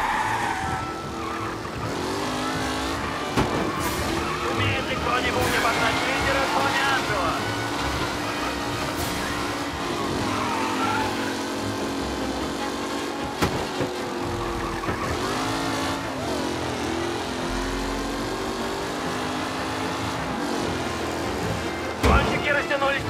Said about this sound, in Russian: Лидеры гонки заходят на последний круг.